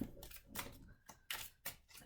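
Tarot cards being shuffled close by in a quiet room, a series of soft, quick riffling bursts separated by short pauses.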